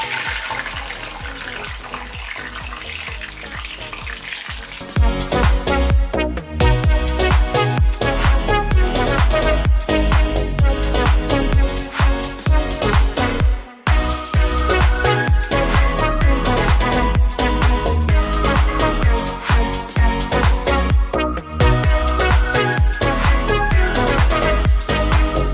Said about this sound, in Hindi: अब इसमें प्याज डालेंगे और इसको लाइट गोल्डन फ्राई करेंगे